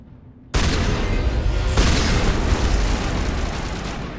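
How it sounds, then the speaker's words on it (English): Shotgun blasts in Mass Effect burst in abruptly after a brief quiet, with a heavy sustained roar of gunfire and a second thump partway through, loud and close. "I figured my shotgun would do more damage than that."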